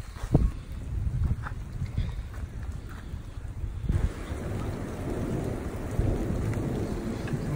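A hail and thunderstorm batters a truck in Yellowstone, rumbling low thunder and dense pounding rain with wind buffeting the microphone, intensifying after a few seconds.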